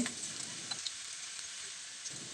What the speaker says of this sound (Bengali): পেঁয়াজ কুচি, রসুন কুচি, কাঁচামরিচ চিরা দিব, সামান্য হলুদ কালারের জন্য, দিয়ে একটু ভালোভাবে নেড়ে চেড়ে নিব